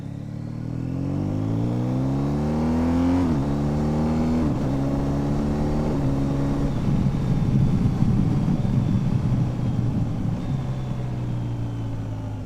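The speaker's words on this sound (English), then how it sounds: "Got a bit of space here to give you a proper listen to it. With the quick shifter, it just sounds so good." A 2021 BMW R1250 GS motorcycle engine with a quick shifter revs steadily with rising pitch, then drops sharply at each quick gear shift, three crisp upshifts before settling into a loud, rough cruising drone.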